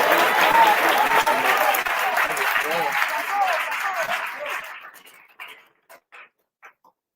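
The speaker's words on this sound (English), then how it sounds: "Let's give him a hand of applause" An audience at a closing ceremony for a camp applauds a student speaker, a thick burst of many hands clapping that slowly thins and fades into a few scattered, isolated claps.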